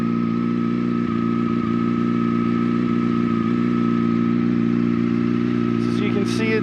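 A 2005 Yamaha R6 sport bike idles with a steady, even exhaust drone that stays unbroken and close for the whole stretch.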